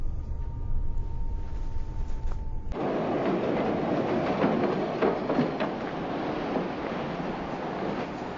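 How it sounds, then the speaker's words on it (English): An elevated train passes during the 1971 French Connection chase scene, its broad rumbling roar starting abruptly after a quieter rumble and holding loud and sustained to the end. "he did it with one car chasing an elevated train"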